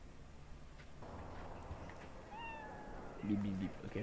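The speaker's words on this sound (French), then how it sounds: "T'es encore là, le minou?" A cat meows in the Cyberpunk video game, a short rising-and-falling meow near the middle, with a second low cry near the end over faint game ambience and quiet speech.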